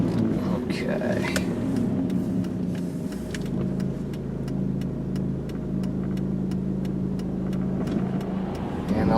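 A silver 2002 Dodge Neon driving straight down a road gives a steady, even engine drone with road noise, and a faint regular ticking runs through it; a voice is heard near the start.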